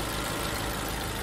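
A Mercedes A150 W169 engine idles steadily after an oil and filter change, a continuous even rumble and hiss heard up close with no voices.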